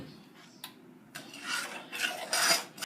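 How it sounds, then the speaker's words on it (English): Chocolate glaze for a Mayan chocolate cake stirred in a pot, a few soft rasping scrapes of the spoon that build in loudness over a couple of seconds, close and alone. "You continuously stir because you don't want it to burn."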